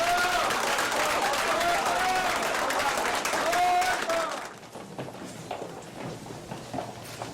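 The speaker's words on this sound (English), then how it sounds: "Give him a round of applause." An audience gives a loud round of applause with some cheering to welcome a speaker, Dr. Wesley Muhammad, dense clapping that drops off sharply partway through to a quieter, scattered tail.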